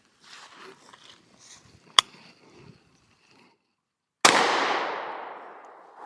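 A Sig Sauer P320 pistol fires, a single sharp close shot with a long decaying ring heard near the end, after a quiet stretch of soft voices and a brief metallic click.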